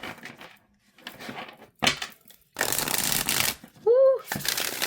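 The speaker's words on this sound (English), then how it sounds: "I like how it shuffles." Oracle cards riffle and slap together in several shuffling bursts, with brief quiet gaps and a short vocal exclamation near the end.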